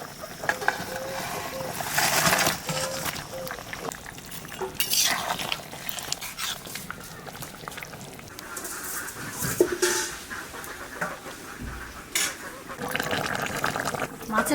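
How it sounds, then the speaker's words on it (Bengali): Fried katla fish pieces dropped into a simmering potato curry in a pan, with stirring, bubbling and a soft sizzle running steadily throughout while a person talks over the cooking sounds. "জলে জাল হয়ে গেছে, এবার মাছ ভাজা দিয়ে দেবো।"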